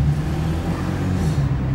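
A Porsche 911 heard from inside the cabin gives a steady, dense low engine drone with road rumble, continuous and fairly loud throughout the short stretch.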